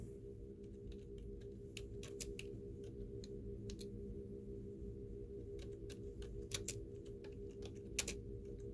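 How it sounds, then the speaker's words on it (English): Keyboard typing, a quiet run of irregular clicking keystrokes over a steady low background hum, with no one talking. "I'm just typing to my wife."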